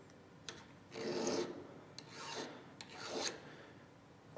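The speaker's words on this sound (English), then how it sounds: "you just take a flat file and run it over the depth gauge tool." A flat file is drawn across a chainsaw depth gauge tool, making a dry rasping scrape in three slow strokes, with light taps between them.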